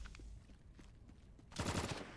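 Gunfire in the video game Drawn to Death, quiet rapid pops followed by a louder dense burst of shots near the end, brief and close.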